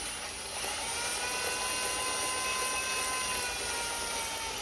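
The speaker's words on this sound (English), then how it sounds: "I'm going to go ahead and rotate my hone in here to get it completely saturated." A cylinder hone for a John Deere R tractor's pony engine spins steadily in a bath of oil, giving a continuous even whirring drone with a high whine, close and unbroken throughout.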